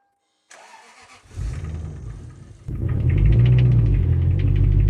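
A high-mileage car's V8 engine cranking with the starter, catching, and settling into a loud, rough steady idle, close and without talking.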